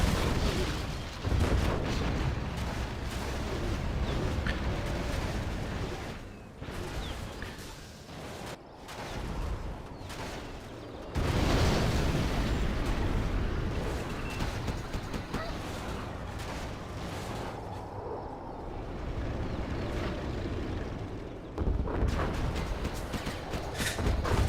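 Cannon fire and heavy explosions from a Generals Zero Hour China match, with nuke cannon shells and battle booms piling up loudly and continuously under excited commentary throughout.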